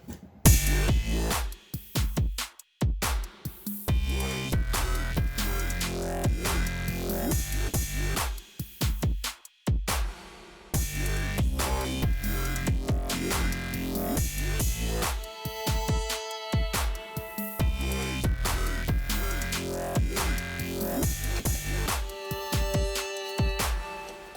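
A power drill whirs through a hole in a garage in long, loud bursts, its motor whine rising and dropping with short pauses between runs.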